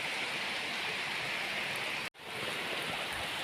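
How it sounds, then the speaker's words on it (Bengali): Light rain falling outdoors as a steady, even hiss of drops, with a brief cutout near the end and no voices. "বৃষ্টি পড়ছে হালকা হালকা"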